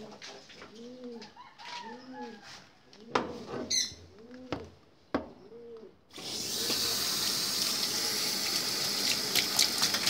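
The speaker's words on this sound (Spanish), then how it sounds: "Nomás poquita le lavo alrededor de la tina por si hay algún grumito del detergente" Water from a tap runs into a washtub to rinse away detergent residue, a steady close rushing splash that starts abruptly halfway through, following rhythmic cooing pigeons and a few sharp knocks.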